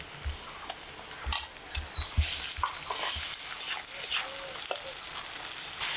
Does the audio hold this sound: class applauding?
no